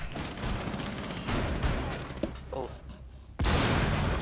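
Gunfire in Rainbow Six Siege, a dense rattle of shots under a noisy background, a few scattered bursts, then a loud sudden blast near the end, with a voice talking over it.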